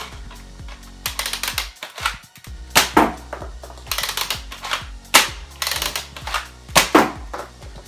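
A Nerf Rampage blaster fitted with a Triad triple-shot mod is pumped and fired close by: repeated plastic ratcheting slides and clacks, interspersed with sharp snapping bursts, in an irregular mechanical rhythm.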